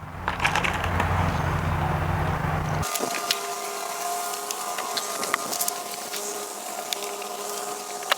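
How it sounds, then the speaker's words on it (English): A power tool drives hidden fasteners into Trex composite decking, a steady buzzing whir at first, then a continuous mechanical drone with scattered sharp clicks, close and even in level throughout. "we're going to put our hidden fasteners in here"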